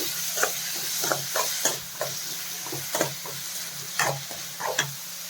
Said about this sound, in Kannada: ನಾವು ಇದನ್ನು ಸ್ವಲ್ಪ ಫ್ರೈ ಆಗಬೇಕು